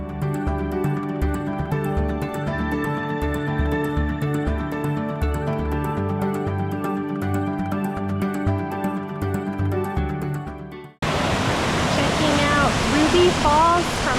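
After a long stretch of rhythmic music cuts off abruptly, a waterfall at Mount Rainier roars in: a loud, steady, full-bodied rush of falling water heard close for the final few seconds.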